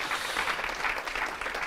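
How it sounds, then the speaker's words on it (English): An audience at a live Q&A event gives a round of applause for a guest named Andy, a steady wash of many hands clapping at moderate distance, unbroken for the whole stretch. "Round of applause for Andy."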